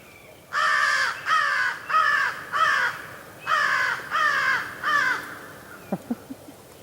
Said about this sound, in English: That was a crow.